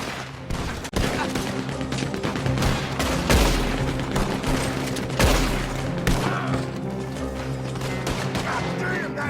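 A heavy mounted gun on a war wagon in the western game Red Dead Online fires continuously, with loud, dense volleys and booming impacts filling the whole stretch.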